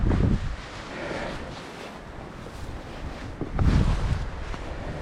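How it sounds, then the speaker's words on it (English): Gusty wind buffets the microphone in rumbling bursts on a mountain hike, strongest at the start and again near the end, with no one talking. "Quite windy."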